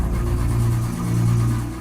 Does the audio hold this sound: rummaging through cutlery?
no